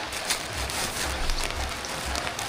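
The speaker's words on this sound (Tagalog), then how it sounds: "Tikatik yung ulan." Light, persistent rain falls in a steady close hiss, with soft irregular patters and drips over a low rumble.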